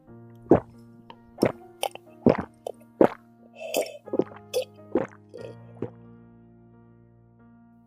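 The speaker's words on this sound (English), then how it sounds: "Anna, a glass of water before we begin." Water drips and plops in irregular bursts, with sloshing splashes as liquid fills a glass, over a faint steady hum; no one speaks.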